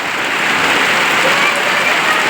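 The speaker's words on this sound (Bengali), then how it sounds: "সেই বৃষ্টি ঝাপঝুপ করে নামছে বৃষ্টি।" Heavy monsoon rain pours down in a dense, loud, constant hiss on surrounding surfaces, with no pauses.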